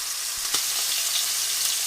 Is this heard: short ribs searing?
yes